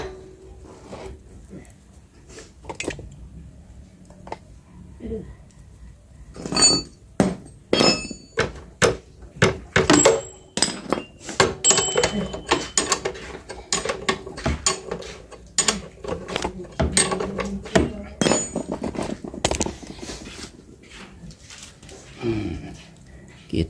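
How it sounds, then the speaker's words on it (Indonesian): Upper shock absorber bolt being tightened on a Yamaha scooter, a run of sharp metallic ratchet clicks, clanks and tool knocks coming in irregular bursts after a quiet start, close up, with someone talking at times. "kalau sudah seperti ini kita kencengin ya baut sok atasnya"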